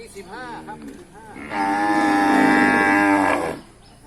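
Cattle at a northern Thai native cattle market: a long, loud, close moo lasting about two seconds, preceded by shorter lowing calls.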